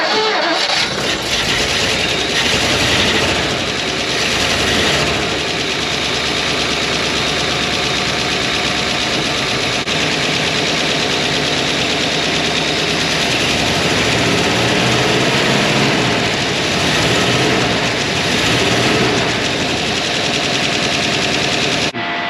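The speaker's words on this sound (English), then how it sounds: "let me grab the keys and we're gonna try and turn this over" A Ford Fairlane engine, sitting unused for over 25 years, cranks and catches, then runs on in a loud, steady, rough idle with a clattering, uneven pulse.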